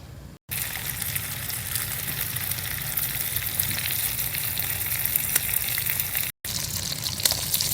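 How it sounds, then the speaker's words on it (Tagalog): Spam and eggs fry in a pan at a beach breakfast in Unisan, Quezon, giving a steady, close sizzle and crackle that runs almost the whole time, broken by two short silent gaps. "Kahit itong spam, tutustahin ko yan. So, lutuin ko lang to para mabilis na."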